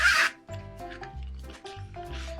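A zipper on a Kanahei-pattern zip pouch drawn open in several short, scratchy pulls, close up and clear, with no talking over it.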